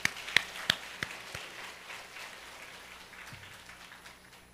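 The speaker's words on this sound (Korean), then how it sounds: "하나님께 박수로 영광을 돌리십시오." A church congregation at a festival worship service applauds, a few sharp claps up front giving way to a softer, fading patter of many hands.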